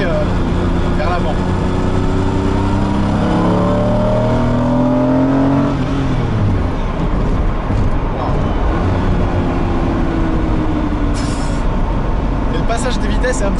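Lamborghini Diablo with a 492-horsepower engine accelerating hard, its revs climbing through several rising sweeps before easing back into a steady loud drone, all heard close from inside the car.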